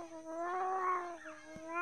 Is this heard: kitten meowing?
yes